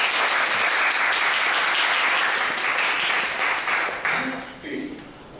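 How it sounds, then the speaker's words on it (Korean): An audience at a forum gives loud, sustained applause that fades out near the end as a voice begins speaking over the last of the clapping. "박수로 기대하시다"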